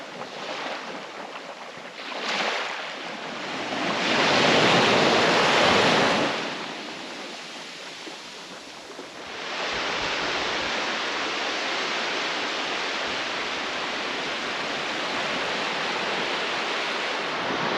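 Surf rolls onto Luskentyre Beach in the Outer Hebrides, a broad steady wash of breaking waves with one louder surge partway through, heard alone with wind noise buffeting the microphone.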